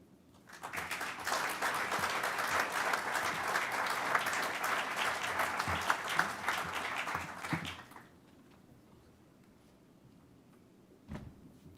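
Crowd applause at a university groundbreaking ceremony, dense clapping for about seven seconds that quickly dies away into quiet room sound.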